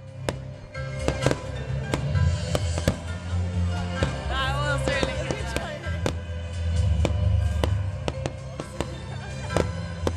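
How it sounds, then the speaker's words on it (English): Fireworks bang and crackle repeatedly, sharp pops scattered across the whole stretch with a rumbling low boom beneath, voices faintly in the background. "I also saw some fireworks and here is a video for that."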